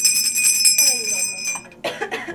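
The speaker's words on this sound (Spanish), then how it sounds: "¿quién desea tocar la campana para que los inviten a pasar?" A bright door bell at an abandoned mansion rings with sustained metallic tones, then fades as a short burst of voices and noise follows near the end.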